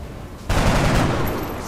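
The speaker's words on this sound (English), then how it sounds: "I'm still gonna take the shot, so let's take the shot" Gunfire in the video game XCOM erupts suddenly as a loud, dense burst of shots, then rolls on as a sustained roar after a quieter lead-in.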